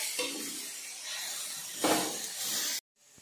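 Finely chopped vegetables for momo filling stir-fry in a pan with a steady hissing sizzle, swelling briefly as they are tossed, then cutting off abruptly.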